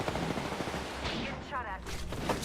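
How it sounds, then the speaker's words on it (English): Gunfire in a Counter-Strike 2 match, with bursts of shots blending into a dense, steady wash of game noise and faint voices underneath for the whole stretch. "Getting shot at."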